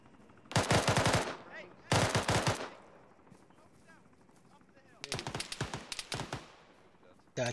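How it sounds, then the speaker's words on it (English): Gunfire in the military shooter ArmA, set in Chernarus: three loud bursts of rapid automatic fire, each about a second long, separated by quieter gaps with faint background crackle. "Guy keeps shooting at this side of the wall."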